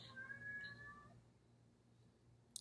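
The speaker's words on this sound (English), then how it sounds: "I don't know if you can hear my cat meowing" A house cat meows in a few drawn-out, rising cries at the start, fairly close and moderately loud, then fades into quiet room hum, with a sharp brief click near the end.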